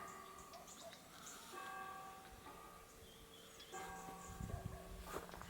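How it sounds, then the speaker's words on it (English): A church bell tower rings faintly in the distance, with sustained bell tones lingering over a quiet outdoor background and a few soft knocks near the end; no one talks. "Can you hear the bell tower?"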